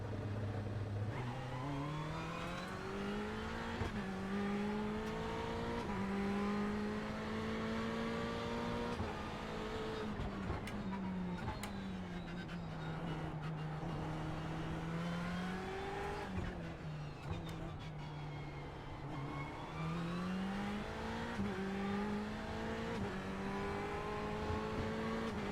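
A GTE race car engine in the iRacing sim at Silverstone drones continuously, its pitch climbing and dropping through repeated upshifts and braking downshifts, with occasional tire squeal, loud and steady throughout.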